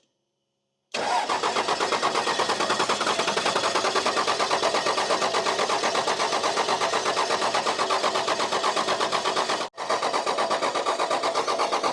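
A Cummins diesel truck engine that has sat for years with missing parts cranks over with a rapid, even starter rhythm, loud and close, continuing for about nine seconds, stopping briefly, then cranking again.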